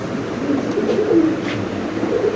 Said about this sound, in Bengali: ফিরোজ ভাই কি কবুতর ভাই কত সুন্দর এক জোড়া